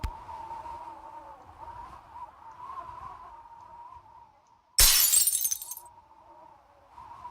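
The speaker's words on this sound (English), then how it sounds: "I think I just smashed something." In a video game, an object smashes with a sudden, bright crash of shattering glass that breaks through a soft, steady hum and then fades within about a second.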